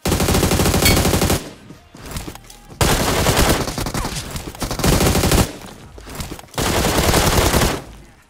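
In the battle royale game BGMI, bursts of rapid automatic gunfire ring out loud and close, three long sustained volleys separated by brief pauses as two players are knocked down.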